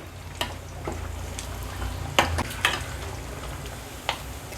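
Potato vadas for a fasting-day batata vada fry in hot oil with a steady close sizzle, broken by a few sharp crackles and light utensil taps as they are separated.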